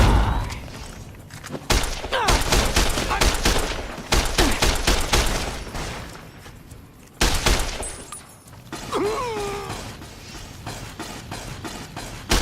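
Gunfire in the modded PC game Fallout New Vegas: rapid, heavy bursts of shots in several clusters with short pauses between them, close and loud, and a voice breaking in near the end.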